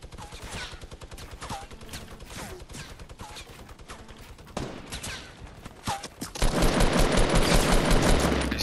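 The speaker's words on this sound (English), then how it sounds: "I'm gonna press, you keep firing." Rapid bursts of gunfire from a Fortnite match crackle through the first half, followed by a dense sustained barrage of automatic fire that dominates the final seconds, with no talking.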